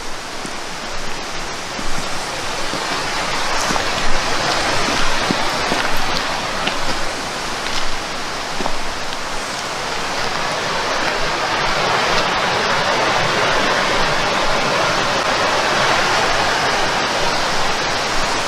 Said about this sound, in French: À part le bruit du torrent, c'est d'un calme.